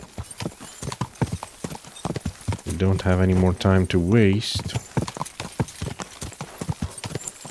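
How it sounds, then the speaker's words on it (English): A horse's hooves clip-clop steadily in Kingdom Come Deliverance 2, a brisk even rhythm of close hoofbeats running throughout, with someone speaking over the middle of the sequence. "Why is the horse going like that?"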